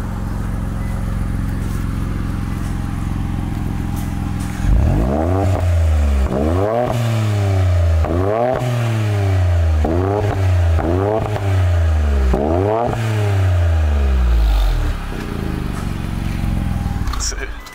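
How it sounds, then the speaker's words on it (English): A tuned Infiniti Q50 sedan's engine is revved hard about six times in quick succession, each rev climbing sharply and falling back, loud and close, with a steady idle before and after. "Get some revs for y'all."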